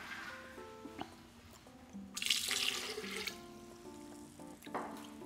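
Water is poured into a bowl for pancake batter, a faint, brief splashing stream in a quiet kitchen with small clinks around it.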